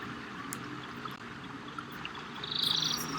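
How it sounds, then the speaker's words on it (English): A dart frog calls from a bromeliad in a tropical rainforest, a short high chirping burst near the end over a steady wash of rain and insect-like hiss. "This is a dart arrow frog, and we are so lucky that we are able to see this"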